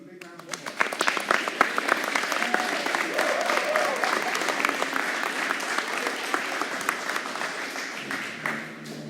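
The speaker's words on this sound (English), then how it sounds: "Can we again give this team a big round of applause?" Audience at a county school board meeting applauds a team, steady dense clapping from many hands in a room, moderately loud and sustained for several seconds before tapering.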